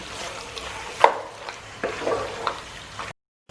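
Cream is stirred into a dish with a utensil, producing soft scraping and sloshing sounds with a couple of sharper clinks against the vessel, close and fairly quiet, ending in a brief silence.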